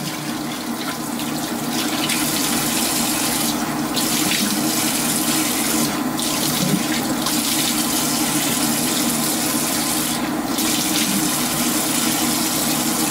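Tepid water running steadily from a tap into a bathroom sink, a loud, continuous rushing hiss that holds unchanged throughout with no voices.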